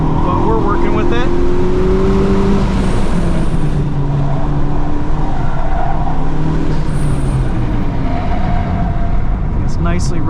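2023 FL5 Honda Civic Type R on FK460 all-season tires driving a flooded track, engine droning loudly and continuously under a wash of water spray and road noise.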